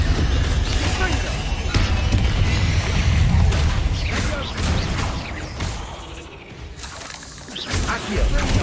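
Hogwarts Legacy combat with the Confringo blasting spell, loud bursting explosions and shattering crashes layered over a dense, rumbling battle mix while voices speak.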